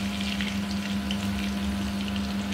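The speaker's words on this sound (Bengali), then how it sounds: "চিংড়িগুলো ভেজে নিয়ে এবার মালাইকারি হবে।" Prawns fry in a pan for a Bengali malaicurry, giving a continuous sizzle and crackle under a steady low hum, with no voices.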